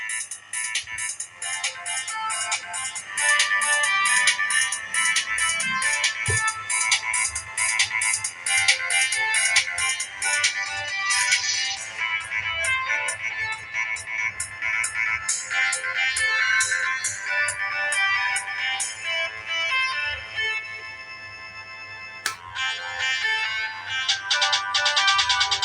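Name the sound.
ringtone of a Sony Ericsson T303 phone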